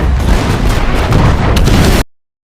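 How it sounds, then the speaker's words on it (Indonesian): Cannon fire from the ghost ship Flying Dutchman bombarding the pirate ship Black Pearl in a sea battle: loud, dense booming blasts and rumble continuing for about two seconds, then cutting to silence. "langsung memerintahkan anak buahnya menembaki Black Pearl dengan meriam"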